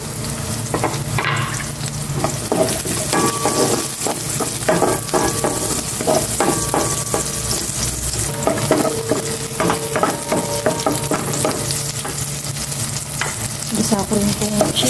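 Onions and chicken sauté in a pan for pineapple chicken, giving a loud continuous sizzle with frequent scraping and clinking from a utensil stirring against the pan.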